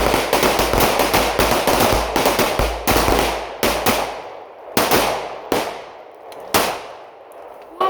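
Pistol shots fired in quick succession during a fighting pistol class in Washington, a rapid burst of sharp reports followed by several spaced single shots, loud and close with no talking.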